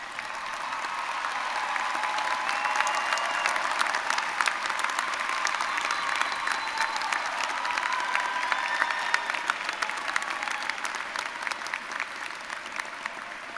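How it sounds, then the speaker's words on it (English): Graduates at the Seton Hall 2012 baccalaureate commencement give sustained applause to families and supporters, a steady, even wash of many hands clapping at moderate distance for over ten seconds. "I now ask the graduates to rise and join us in applauding the families and other supporters of our students who are here today"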